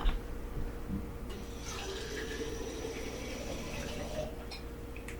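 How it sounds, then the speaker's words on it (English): Water pours from a tap into a lasagna dish of uncooked noodles for vegan lasagna, a steady close splashing fill that runs for several seconds with a slight rise in pitch and no talking. "I'm even going to fill this up with a little bit of water and put it on top"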